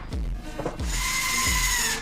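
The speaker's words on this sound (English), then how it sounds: "Drill the top first." Power drill boring into a kitchen cabinet during a kitchen install, a few short revving bursts, then a steady high whine as the bit bites, close and loud.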